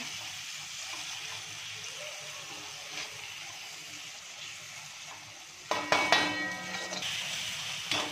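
A low, even sizzle of masala in hot oil, with yoghurt already in, gives way near the end to louder bursts of frying and stirring as tomatoes go into the pan.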